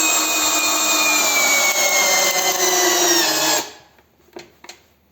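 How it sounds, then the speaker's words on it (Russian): A DRIVAK ED002 cordless drill/driver runs in drilling mode with a loud, steady motor whine for several seconds, then cuts off abruptly, leaving a few faint clicks and knocks afterward. "Ну а дальше едем уже в режиме сверления."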